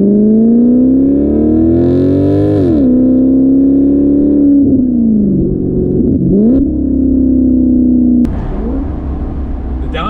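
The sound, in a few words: Maserati GranTurismo V8 engine revving with downshifts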